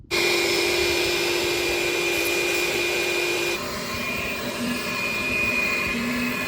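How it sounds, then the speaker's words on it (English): A shop vacuum roars steadily up close, cleaning out the spark plug hole of a 1939 John Deere Model B tractor, its pitch and loudness shifting slightly partway through as the suction changes, with no talking. "We're making a shop vac attachment so that we can vacuum down the spark plug hole."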